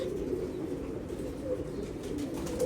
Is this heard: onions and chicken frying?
no